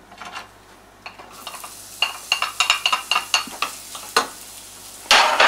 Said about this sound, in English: I'm going to fry off these onions.